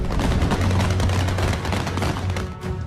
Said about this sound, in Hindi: इधर काबुल में लोगों के प्रदर्शन से परेशान होकर तालिबान हवाई फायरिंग कर रहा था